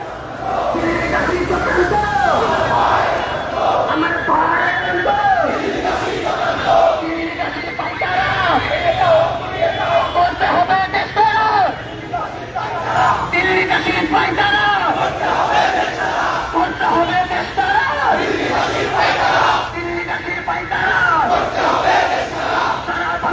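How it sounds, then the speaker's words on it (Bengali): A large protest crowd at a Dhaka rally chants slogans together in loud, rhythmic waves that run continuously for over twenty seconds, with dense voices filling the space throughout. "শত শত নেতাকর্মীরা এই বিক্ষোভ মিছিলে অংশগ্রহণ করেছে তারা স্লোগান দিচ্ছে"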